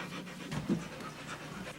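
A dog pants close up in quick, steady breaths with no other sound.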